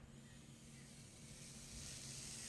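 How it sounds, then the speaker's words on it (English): A steam hair straightening brush releases a continuous, steady hiss of steam, close and constant with a faint low hum underneath, growing slightly louder toward the end. "I hope you guys are seeing the steam as much as I'm hearing it."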